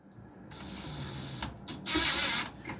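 An impact driver set to impact setting 2 runs in short bursts with a rattling, ratcheting whir, loud and close, with brief pauses between runs.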